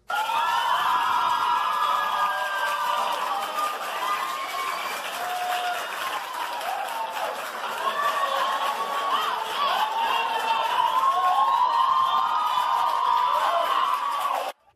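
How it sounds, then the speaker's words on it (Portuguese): Students at Escola Ayrton Busch applaud and cheer their teachers during a tribute, dense continuous clapping with shouts and whoops from a lively crowd, loud and sustained throughout before cutting off abruptly. "Elas receberam aplausos dos estudantes"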